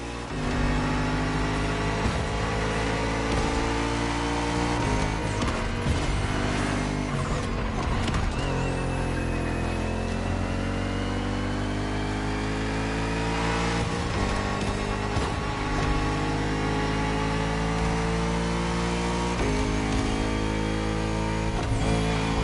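Bugatti Vision GT engine in The Crew Motorfest video game, a loud, sustained high-pitched roar with repeated revving swells and shifting pitch sweeps, close and continuous throughout.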